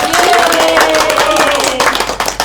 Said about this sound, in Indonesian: Apresiasi untuk semua kelompok, ayo tepuk tangan.